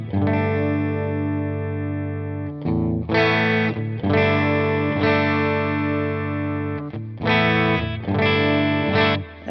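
Fender American Vintage II Stratocaster with a bright, full tone after its tone control is raised, strummed chords ringing with sustained harmonics, a few pauses and re-attacks, heavy effects and slight distortion, no talking.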